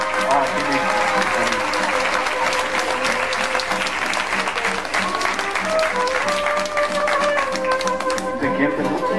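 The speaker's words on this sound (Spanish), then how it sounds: "Y un aplauso para aquí, por favor." Crowd applause at a farewell tribute event, steady dense clapping with sharp hand claps throughout, mixed with music and voices in the background.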